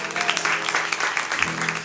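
Audience applause at a singer-songwriter showcase, a steady dense patter of clapping throughout with a low sustained hum beneath.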